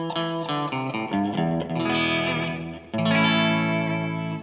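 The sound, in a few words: electric guitar amp tone with more edge, slight distortion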